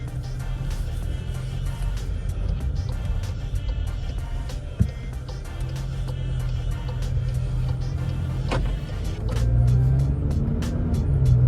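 Steady low road rumble and engine drone inside a moving 2021 Seat Leon Xcellence, continuous and fairly loud, with a brief knock and a slight swell near the end.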